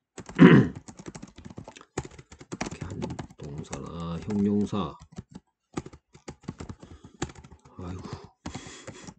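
Fingers type on a computer keyboard in quick irregular bursts of close, sharp clicks, with someone speaking Korean in between and over the keystrokes.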